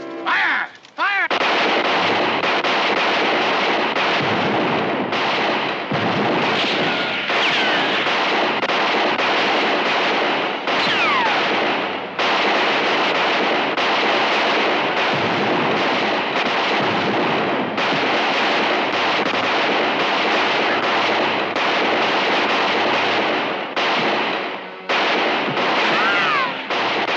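Pistols and rifles fire in a sustained Old West gunfight, shots cracking one after another with almost no pause for about 27 seconds, loud and close, with shouting now and then in the mix.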